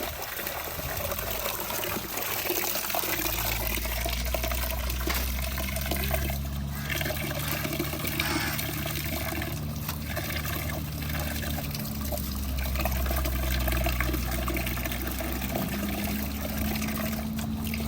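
Squid is washed in water, a continuous close splashing and pouring that stays steady throughout with a few sloshing surges, with no one speaking.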